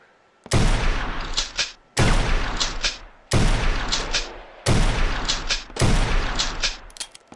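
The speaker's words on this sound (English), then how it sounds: "Pistols are really fun in this because you can get really good with them." Five loud pistol shots from the Gun Club VR shooting game ring out one after another, about a second and a half apart, each a sharp crack with a lingering tail and no voices.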